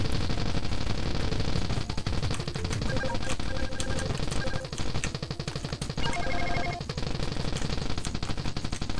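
Rapid gunfire in the shooter game Rainbow Bullet, dense machine-gun-like bursts firing almost continuously and loudly, with brief pauses, over busy game music and effects.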